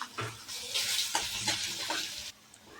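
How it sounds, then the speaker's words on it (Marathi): Garlic frying in a pan with onion and peanuts, a bright continuous sizzle broken by scraping stirs, then a quieter sizzle after a sudden drop near the end. "लसूण चांगला तळून घ्यायचा"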